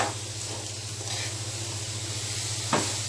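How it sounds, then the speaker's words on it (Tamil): A jaggery and coconut filling is stirred in a pan with a steady low sizzle and soft scraping, plus a brief louder scrape near the end, with no talk. "வெல்லம் கரையிற வரைக்கும் நல்லா கிண்டுங்க."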